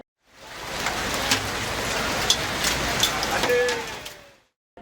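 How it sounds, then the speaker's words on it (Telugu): Heavy rain from a monsoon low-pressure system pours in a dense, steady hiss, with a few sharper drop hits on top; it comes close and loud, then fades out at both ends. "3 రోజులు భారీ వర్షాలు."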